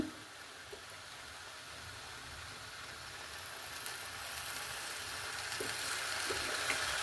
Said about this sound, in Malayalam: പിന്നെ നമുക്ക് ഇത് വെളിച്ചെണ്ണയിലാണ് വഴറ്റിയെടുക്കുന്നത്.